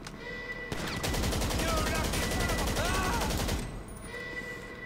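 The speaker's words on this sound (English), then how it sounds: "Heavy rifle." Heavy rifle gunfire in the video game GTA 5 rattles out as a fast, loud, continuous automatic stream lasting about three seconds, close and dominant, with steady game ambience before and after.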